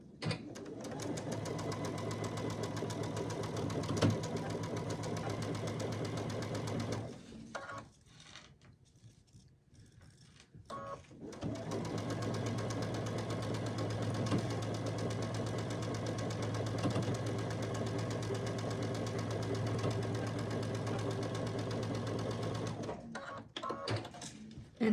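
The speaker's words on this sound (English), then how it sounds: "line it up, and stitch down this side at 1/4 inch" A sewing machine stitching quilt pieces at a quarter-inch seam, a steady rapid mechanical whir that stops for a few seconds and then resumes, fairly quiet and close.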